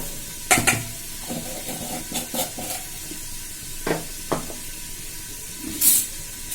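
Vegetables frying in oil with turmeric, cumin and asafoetida, a soft steady sizzle with scattered scrapes and clinks of a spoon stirring the pan at moderate volume.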